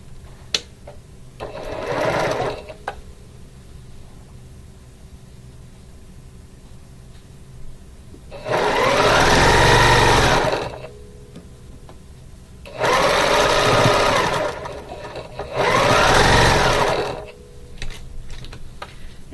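A sewing machine stitching knitted gingerbread man pieces together in several separate bursts, each a close, rapid whirring run of a second or two, with quiet handling clicks and pauses between.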